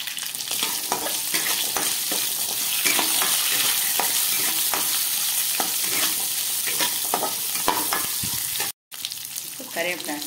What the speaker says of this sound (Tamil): நல்லா ப்ரௌனிஷ் ஆகிற அளவுக்கு நல்லா ஃப்ரை பண்ணி எடுத்துக்கலாம்.